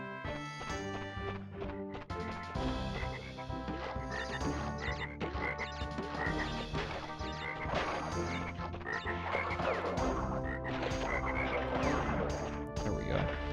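Frogs croaking in a video game, dense repeated croaks layered over busy game music and clattering, thumping effects, continuous and fairly loud for the whole stretch with no talking.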